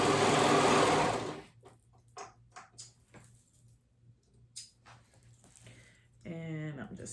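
A sewing machine stitching a neckband seam runs in a short close whirring burst, with quiet handling noises and faint talk around it.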